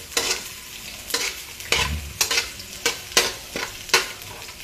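Garlic and onion sauté in hot oil: a close, crackling sizzle punctuated by regular scraping stirs of the spatula against the pan, about one stroke per second.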